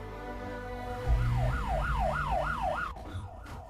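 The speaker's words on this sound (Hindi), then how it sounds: "ये तो पुलिस का सायरन है।" A police siren wails in a fast rising-and-falling pattern over a low engine hum, repeating several cycles before cutting off abruptly.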